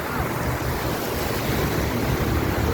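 Strong surf crashes continuously on a Thai beach, a steady loud roar of breaking waves with wind buffeting the microphone throughout.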